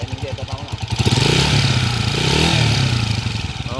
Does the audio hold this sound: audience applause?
no